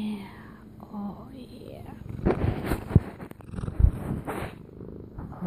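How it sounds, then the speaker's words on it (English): Soft, steady purring of a cat rumbles low and close throughout, with a person murmuring quietly over it and a few louder handling thumps near the middle. "do you hear all that purring?"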